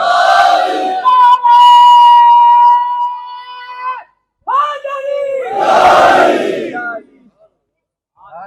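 A large crowd at a religious gathering in Chittorgarh loudly chants a devotional slogan in unison, with sustained drawn-out voiced calls, a brief pause, then a second powerful surge of massed voices before trailing into silence.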